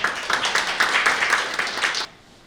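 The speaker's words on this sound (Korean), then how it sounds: "박수로 환영해 주시면 고맙겠습니다" An audience at a forum on port authority autonomy applauds to welcome a presenter. Dense, steady clapping fills about two seconds, then cuts off abruptly into quiet room tone.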